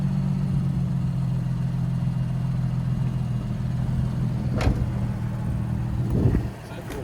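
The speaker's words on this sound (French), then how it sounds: "Le bruit du démarrage est sympa. Bon, là, c'est à chaud, donc c'est assez discret." A warm Nissan 350Z engine idles with a low, even, fairly discreet rumble close by after starting, then cuts off near the end; a brief clunk and a voice come in.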